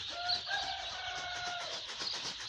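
Chickens in a shed during morning care give a few thin clucks and a faint distant crow against a hissy background, quiet and without talk.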